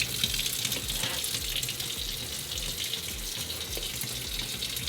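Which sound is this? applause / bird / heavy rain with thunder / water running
water running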